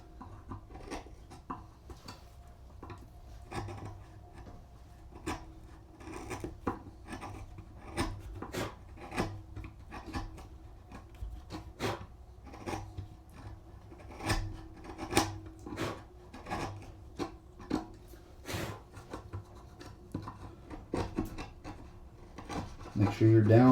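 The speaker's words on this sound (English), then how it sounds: "Go through the chisel and make sure these corners are clear." A chisel clears the corners of hand-cut wooden dovetails, with steady, repeated short scraping and paring strokes running close and crisp throughout, a louder knock at the end.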